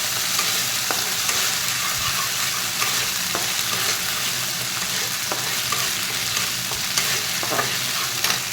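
Ginger paste sizzles and fries loudly in a pan as it is stirred, a steady dense hiss with soft scraping strokes throughout, close up and continuous.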